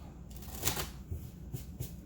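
Pokémon trading cards being side-shuffled by hand at a tabletop game, giving soft papery riffling bursts with a few quicker flicks, quiet and close with no talking.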